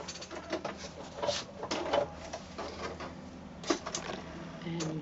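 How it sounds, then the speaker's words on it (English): A domestic sewing machine runs a short back stitch through quilted fabric for a mini mitt, a steady close mechanical whir and patter with small surges, nothing else over it. "I'm just going to now sew at an angle back to the fold. And a little back stitch just to hold that."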